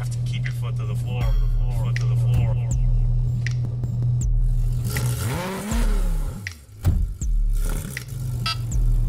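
A Porsche driven at full throttle on a Porsche Experience Center course, its engine humming strongly and then sweeping upward in a rising rev, with tire and cabin noise and a person talking over it.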